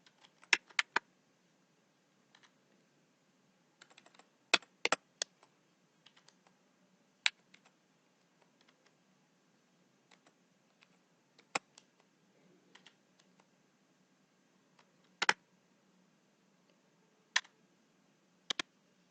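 Typing on a computer keyboard into MS Word makes sparse, irregular clicks and short bursts of keystrokes, quiet and close, separated by long silent gaps.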